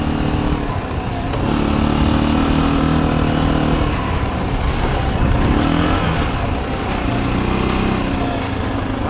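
An Army Harley-Davidson motorcycle being ridden off-road on dirt with rocks, its engine droning loud and close without a break as it pulls and shifts, with no voices heard.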